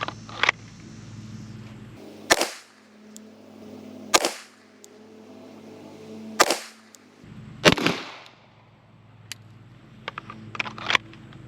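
Springfield Armory 1911 DS Prodigy pistol fired on a range, giving four loud, sharp shots spaced about two seconds apart, plus fainter cracks of other guns in the background.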